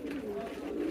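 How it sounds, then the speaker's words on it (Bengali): Pigeons cooing on a pigeon farm, a close, continuous low throaty murmur of several birds overlapping without pause. "আমাদের এখানে 20 জোড়া রাখার কবুতর আছে"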